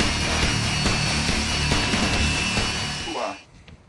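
A belt sander running a looped sanding belt drones loudly and steadily at close range for about three seconds, then winds down and cuts off abruptly.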